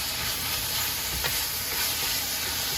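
Pepper steak sautés in oil in a pan on a stove over medium heat, giving a steady, close, even sizzle with a light stir scraping partway through.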